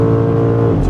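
A 2025 BMW M5 Touring hybrid accelerates hard on the autobahn, its electric boost engaged, and the engine drones loud and close with a steady, rising tone heard from inside the cabin.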